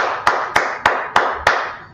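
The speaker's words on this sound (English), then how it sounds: "Let's clap it up." Five sharp, evenly spaced claps ring out in a steady rhythm, each followed by a short ringing decay, from an audience clapping along in a close, reverberant room.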